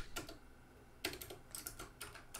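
Soft clicking from a computer keyboard, irregular bursts of keystrokes and short pauses, quiet and near, with no voices.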